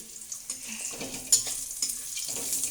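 Bori lentil dumplings and panch phoron spices frying in hot oil with dried and green chillies, a steady crackling sizzle with soft stirring scrapes throughout.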